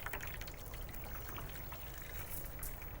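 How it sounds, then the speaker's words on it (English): Water poured around the outside of a creme brulee dish in a kitchen, a steady trickling stream that runs for the whole short stretch with no talk. "Then put water around the outside."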